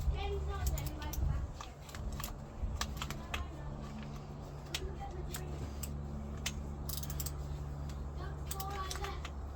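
Bolts are being removed during the strip-down of an Mk2F Polo engine, giving scattered, sharp metallic clicks and ratcheting taps, fairly faint and close, over a low background hum.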